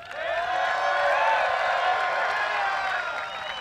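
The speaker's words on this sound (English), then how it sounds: "Beautiful ovation from the crowd." A crowd applauds and cheers for a round of women's disc golf at the 2022 US Women's Disc Golf Championship, clapping and whoops swelling into one steady, loud ovation that holds for several seconds.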